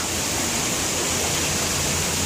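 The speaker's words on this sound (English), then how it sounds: "Guys, we're getting ready to come up on the wall of water." Wall of water waterfall pouring down on the Smoky Mountain River Rampage rapids ride at Dollywood, a loud, continuous broadband roar of crashing water very close, with no talk.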